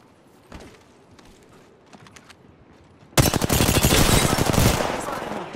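Video game gunfire: a few scattered faint shots, then a sudden loud burst of rapid automatic fire that hammers on for a couple of seconds before easing slightly.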